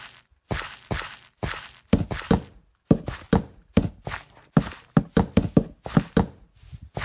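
Minecraft fence blocks being placed one after another, producing a rapid series of hollow knocking thuds in an irregular but steady rhythm, close and clear.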